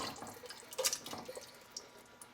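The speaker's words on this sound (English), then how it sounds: "I'm going to add the half a cup of water and the cube of tomato chicken bouillon." Half a cup of water is poured into a cooking pot of canned menudo on a stove, giving soft, faint splashing and dripping for about two seconds with no talking.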